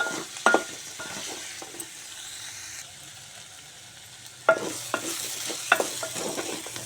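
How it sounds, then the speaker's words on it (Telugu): Beans curry simmers and sizzles softly in a pan while a utensil stirs it, scraping and clinking against the metal in a few louder knocks over a steady low bubbling, with no talking. "కర్రీ ఇలా ఉడుకుతుంది ఇంకా ఉడకాలి"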